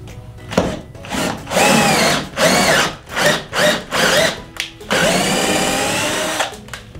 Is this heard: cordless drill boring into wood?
yes